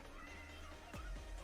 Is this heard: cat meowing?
yes